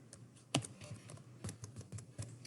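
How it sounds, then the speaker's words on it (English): Typing on a computer keyboard, with irregular clusters of light key clicks and a few sharper keystrokes, close and fairly quiet, no voices. "And then I'm going to type what I think right here."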